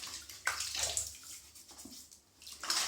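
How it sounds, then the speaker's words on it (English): Water splashes in bursts at a sink as a face is wetted before shaving, with several separate splashy scoops close by and short quiet gaps between them. "Wetting the face, of course."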